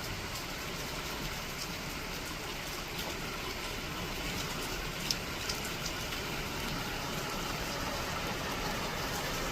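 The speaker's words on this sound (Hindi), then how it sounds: "इतनी बारिश हो रही है ना, बहुत ज़्यादा हो रही है बाहर" Heavy monsoon rain falls outside in a village in Danpur, Uttarakhand, making a dense, steady hiss that stays even and fairly loud throughout, with no voices.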